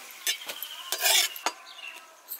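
Bay leaves, a Kashmiri red chili and cumin seeds frying in oil in a kadhai while being stirred, with scattered scraping clinks of a spoon against the pan over a soft, steady sizzle.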